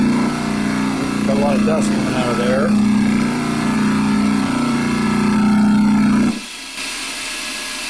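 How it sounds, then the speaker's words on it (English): A vintage repulsion induction motor, under repair, is switched on and runs with a steady loud hum and whine for about six seconds, then cuts out abruptly, with someone talking over the running motor. "I'm going to flip the motor on here"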